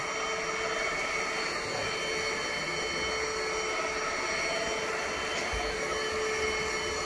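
ANKO cordless stick vacuum cleaner from Kmart NZ running in turbo mode, a steady, loud, unbroken motor whine and airflow hum held at constant level throughout, with no talking.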